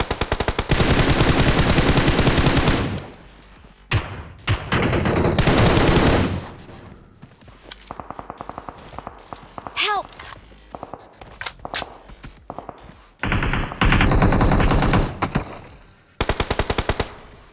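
Long bursts of automatic gunfire in the mobile game PUBG Mobile, loud and close, alternating with shorter scattered shots and quieter gaps, then heavy sustained firing again.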